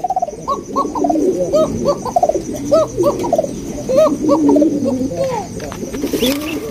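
Many pigeons on a pigeon farm coo close by in overlapping, repeated throaty calls, a busy continuous chorus with faint background noise.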